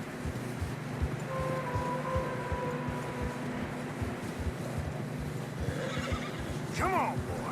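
Horse neighing while trudging through deep fresh snow on a narrow mountain trail in Red Dead Redemption 2, a short whinny near the end over steady hoof thuds and game ambience, with someone talking.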